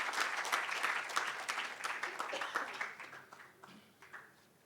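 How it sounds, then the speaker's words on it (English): Audience applause greets a guest speaker at a birthday celebration event, starting as steady dense clapping and gradually thinning and fading over several seconds without talk. "let's welcome the ever insightful, ever witty Mr. Santosh Desai with a huge round of applause"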